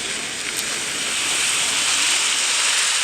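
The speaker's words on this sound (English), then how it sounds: "you'll hear the weather get more intense" Broad, hissing wind noise blows steadily, building slightly in strength over a few seconds, with no voices.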